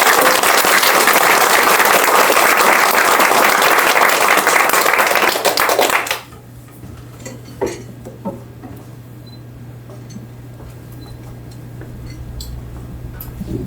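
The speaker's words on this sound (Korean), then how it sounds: "열화 같은 박수로 총리 모시겠습니다." Loud, dense applause from a lecture audience welcoming a speaker lasts about six seconds, then stops abruptly, leaving a quiet room with a few scattered taps and a low hum.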